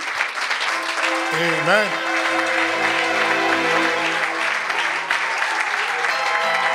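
A church congregation applauds in a loud, sustained wave of clapping and cheering for several seconds, with a voice calling out over it.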